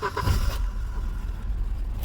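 A Volvo 940 turbo engine cranks and catches, settling into a low steady rumble close by, with a brief burst of higher noise at the start and end.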